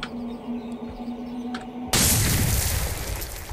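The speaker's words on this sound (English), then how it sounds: "that's an explosion, right?" An explosion in the video game Cataclysm Dark Days Ahead hits as a sudden loud broadband blast partway through, cutting off a quiet hum and sustaining a rumbling roar to the end.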